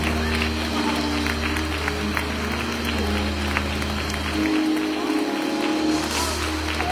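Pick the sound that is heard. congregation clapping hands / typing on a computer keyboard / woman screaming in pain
congregation clapping hands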